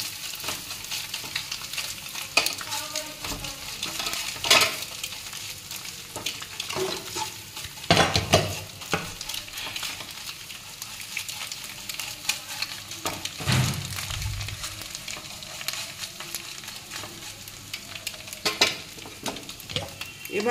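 Food stirred and fried in a pan, heard close as a continuous sizzle with repeated scraping and clinks of a utensil against the metal, no voices over it.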